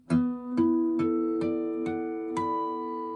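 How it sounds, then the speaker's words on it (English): Six bell-like guitar harmonics ring out one after another at an even pace, each clear chime sustaining and overlapping the last, quiet and delicate. "you'll find the harmonics"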